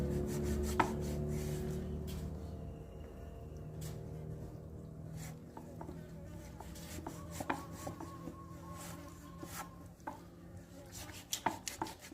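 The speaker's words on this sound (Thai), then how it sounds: "เอามาหั่นนะครับ ชิ้นหนา ประมาณหนึ่งไม้บรรทัดนะครับ" A knife cuts milk dough into thick pieces on a board, giving quiet, irregular chopping and scraping taps that grow busier toward the end.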